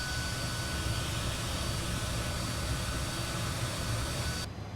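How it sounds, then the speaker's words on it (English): A Fokker F28 turbofan engine idles in Microsoft Flight Simulator, giving a steady, even roar with a faint high whine above it. The sound holds constant and drops away sharply at the very end. "Now we can also hear our little turbofan."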